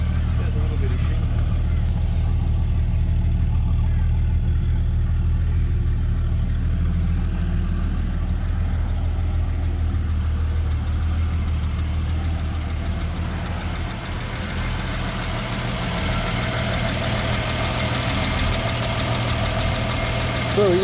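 A Ford XW 250 pre-crossflow six-cylinder engine idles steadily and close up on its first start in 17 years, a continuous low rumble throughout with faint talk over it.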